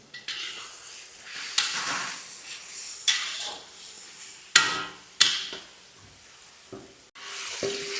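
Hot oil sizzling in a pan for a street-style tomato chutney, with loud hissing bursts that rise and fade, mixed with sharp clanks of a spoon or ladle against the metal pan, close and with no voices.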